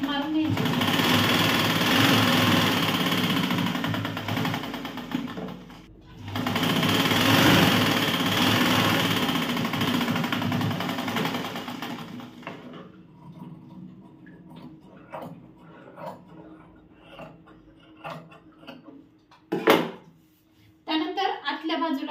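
An electric sewing machine stitches a blouse sleeve, running loudly and steadily for about twelve seconds with one brief pause, then falls quiet while someone speaks over light handling noises.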